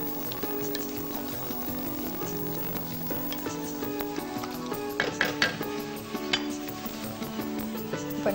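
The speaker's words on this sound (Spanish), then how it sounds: "Rehogamos todo un poco para que el faisán pueda coger el sabor de los ingredientes." Pheasant thighs sauté with other ingredients in a pan, a continuous close sizzle with occasional stirring and utensil knocks, all beneath soft tonal background music, no talk.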